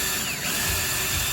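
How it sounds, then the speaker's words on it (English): A power drill bores pilot holes through old pine wood for a quick birdhouse build, a continuous close whirring whine with a slight pitch shift as the bit bites into the grain. "when you're drilling through this old pine"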